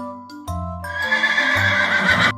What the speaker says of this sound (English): I am a horse.